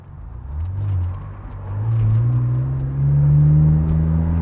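Engine of a manual-transmission BMW revving as the driver works the gas and clutch, a low droning rumble that swells and eases in a few waves, close and steady with no talk.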